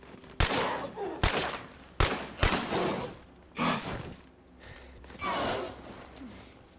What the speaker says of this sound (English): We're gonna have to shoot him.